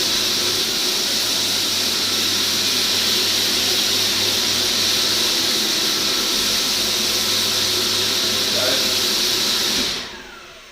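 A Polivac rotary sander whirs steadily and loudly at close range for about ten seconds, a dense even hum that cuts off abruptly as the motor stops.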